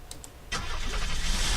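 A car engine in the video game Unturned turns over and catches at about the half-second mark, then settles into a steady running rumble. A couple of faint clicks come first, and the engine is fairly close with no talk over it.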